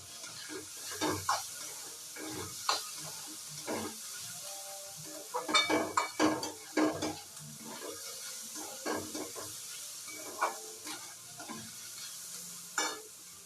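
Thinly sliced ingredients fry in a pan and are stirred for pasta in white sauce, a steady sizzle running throughout with frequent scraping and clattering stirs over it, close and fairly quiet.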